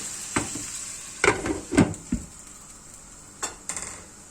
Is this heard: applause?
no